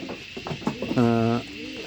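Fancy pigeons such as Uzbek and Shiraz breeds kept on a farm give a close, deep, drawn-out coo after a few short bird sounds and some nearby talk.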